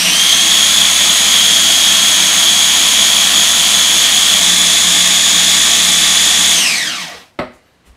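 Seed-grinding machine breaking up curly dock seed pods, a loud steady high-pitched whine that runs without pause for about seven seconds, then spins down and stops, followed by a brief clunk.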